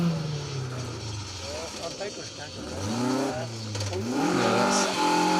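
A Nissan Micra rally car from a 1999-era entry drives along a rally stage, its engine rising and falling in pitch as it revs through gears, loud and fairly close, with a commentator talking over it throughout.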